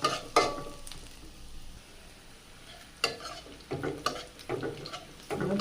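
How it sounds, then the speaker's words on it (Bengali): Chopped onions with green chilli frying in a pan on the stove, with a soft sizzle broken by occasional scrapes and clatters of a spatula stirring them, close up and with no voices. "পেঁয়াজ ভাজা হয়ে গেছে"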